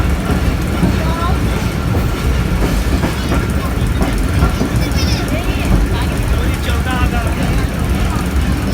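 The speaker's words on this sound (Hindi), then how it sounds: "अल्हम्दुलिल्लाह गाड़ी तो खड़ा होने वाला है" Pakistan Railway train pulling into Landi railway station, a steady loud rumble of wheels and carriages with faint clicks and squeals throughout, a voice talking over it.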